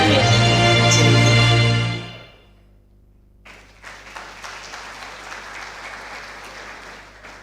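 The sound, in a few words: audience applause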